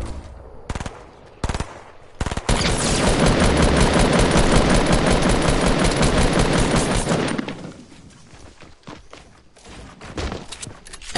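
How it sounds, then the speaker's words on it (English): Sustained rapid automatic gunfire from other players in a shooter game, a few single shots first, then a long loud continuous burst that fades into scattered distant pops. "And more people shooting at me."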